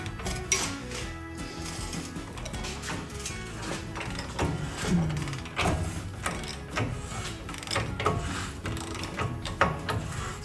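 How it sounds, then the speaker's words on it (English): A ratchet wrench drives a 27 mm socket on the rear axle of a sixth-generation Ford Bronco, giving close, busy mechanical clicking and clanking bursts that keep going throughout, with no talking. "I do have the correct socket for that, 27 millimeter."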